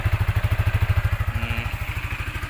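A 2021 Yamaha Exciter 155 VVA motorcycle engine idles smoothly at close range, a steady low pulsing thump repeating quickly and evenly, easing slightly in loudness toward the end, with no voices over it.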